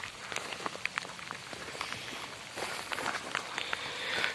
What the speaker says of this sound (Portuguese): a chuva tá começando a apertar